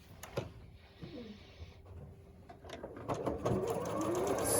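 A sewing machine stitching a quilt block for a schoolgirl sampler quilt, its motor running in a steady continuous whir at close range, with a few small clicks at the start and a louder, busier stretch toward the end.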